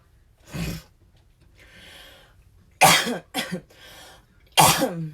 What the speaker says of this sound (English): It's a nervous cough. It's a really bad anxiety cough.